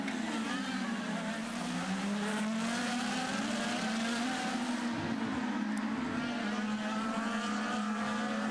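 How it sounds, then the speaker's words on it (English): IndyCar race cars roar around the Long Beach street circuit, with a sustained high engine whine whose pitch climbs and falls as the cars pass, close and loud and continuous throughout. "Power to the inside of Alex Tagliani, and Will Power takes that spot"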